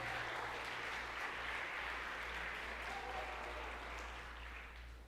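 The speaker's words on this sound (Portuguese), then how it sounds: "Você pode dar uma salva de palmas para o Senhor?" A church congregation applauding: sustained, even clapping from many hands, heard faint and somewhat distant throughout, with no voices standing out.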